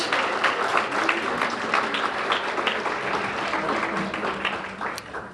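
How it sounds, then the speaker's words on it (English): Audience applause for student presentations at a program's final session, steady, dense clapping from a crowd filling the whole stretch without letup. "Round of applause for those presentations."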